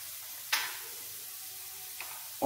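Spices frying in a pan for aloo poha, with red chili powder and coriander powder being stirred in: a soft, steady sizzle broken by a few sharp spoon scrapes against the pan.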